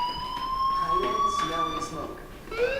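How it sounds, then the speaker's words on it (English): A fire alarm sounds in the video game Life is Strange, a steady electronic tone holding under soft, quiet speech, fairly loud and continuous throughout. "Hey, do you hear that fire alarm?"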